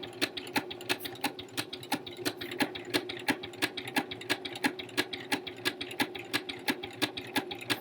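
A sewing machine feeds and stitches fabric with a rapid, even ticking of the needle, about three clicks a second over a soft motor hum, close and steady.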